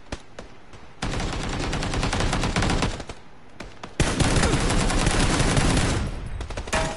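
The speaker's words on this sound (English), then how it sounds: "She likes shooting me." Gunfire in PUBG, sustained bursts of rapid automatic fire in two long loud stretches separated by a brief lull, close and with no voices.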